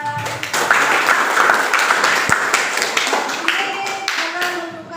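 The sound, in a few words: classroom applause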